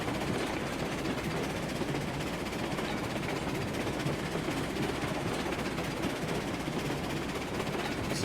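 Steam locomotive running flat out along the main line in the RailRoads Online video game, a steady continuous rolling rumble with rail noise at an even, fairly loud level throughout, no talk.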